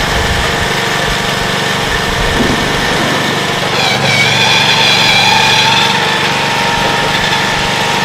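A Little Giant grinder pump runs steadily and loudly while chewing up a knotted shop towel, giving a constant whining motor drone with a brief shift in pitch partway through.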